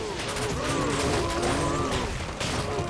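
Corpse Explosion spell from Diablo 2 Resurrected, cast by a Bone Necromancer while farming cows: a dense, continuous burst of crackling blasts and gritty impacts under game noise, with a voice talking over it.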